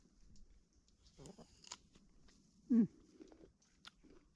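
Close, quiet biting and crunching into an apple in an orchard, with a few crisp bites and chewing sounds over faint outdoor background.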